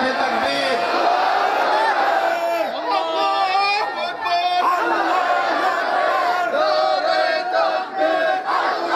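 Large gathered crowd at a Bangla religious sermon shouting Allahu Akbar in unison as a reply to the takbir call, loud repeated chant waves.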